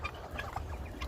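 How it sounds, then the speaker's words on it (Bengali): A turkey on a farm in Saudi Arabia lets out a quick, close gobble lasting about a second, with no voices over it. "টার্কি মুরগি আছে"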